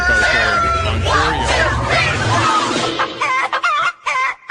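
Chicken clucking sound effect: busy, loud clucks and squawks like a rooster, with voices babbling underneath, thinning into a few choppy clucks at the end.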